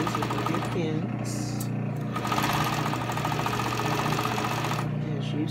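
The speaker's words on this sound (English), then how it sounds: "And I'm going to sew every piece at 1/4 inch away from the cut edge." A sewing machine stitching fabric seams a quarter inch from the cut edge, a steady rapid mechanical whirring hum running continuously and fairly close, with brief pauses.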